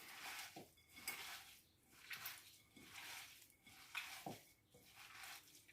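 A zucchini burger mixture is squeezed and mixed by hand, giving soft, wet squelching pulses in a steady rhythm, quiet and close with no talking.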